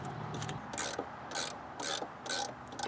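A stubby ratcheting wrench clicks in repeated bursts while turning bolts on an early 1999 Ford F-350 7.3 during a hydro-boost replacement, about five close, crisp ratchet runs with brief pauses between.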